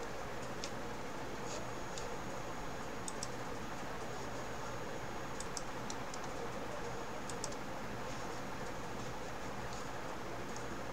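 Faint, sparse keyboard clicks from typing a search on a computer, scattered lightly over a steady background hum.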